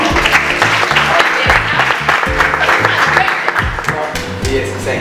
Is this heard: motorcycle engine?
no